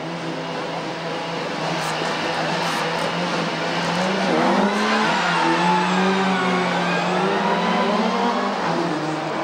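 Rally cars up to 2000 cc launch from the start of a final, engines revving hard and rising in pitch as they pull away, loud and continuous over crowd ambience.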